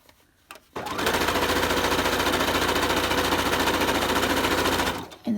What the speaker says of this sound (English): And then you just start sewing